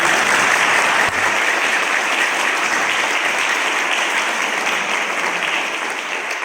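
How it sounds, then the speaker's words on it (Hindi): Loud, sustained applause from the audience at a Hindi poets' gathering on Louis Braille Day, a dense even roar of many hands clapping that holds for several seconds and eases slightly at the end. "अगर आपको सभी कवियों का काव्य पाठ अच्छा लगा हो तो एक बार जोरदार तालियां बजाएं"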